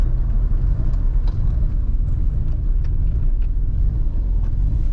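A 1987 Mazda FC RX-7 rotary engine heard from inside the car while driving: a loud, continuous low rumble with an uneven, pulsing lope and no voices over it.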